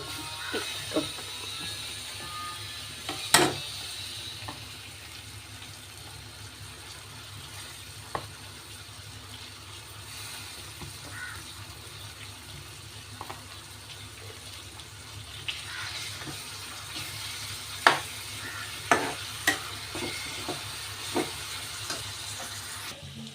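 Tomatoes added to biryani masala sizzling in a pan for chicken biryani, a steady frying hiss with scattered clinks and scrapes of stirring, some sharp knocks against the pan, no talking.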